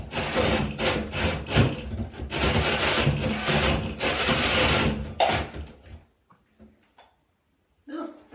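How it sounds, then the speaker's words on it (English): A large drill bores through wood during a bathroom remodel, giving loud, rough grinding bursts for about six seconds. The noise then stops, leaving a few faint knocks and a short voice near the end. "It's a big drill."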